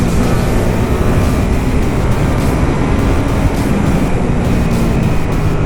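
A 2019 Ducati Supersport 950 being ridden produces a loud, constant roar of engine and rushing wind from start to finish, with no voices.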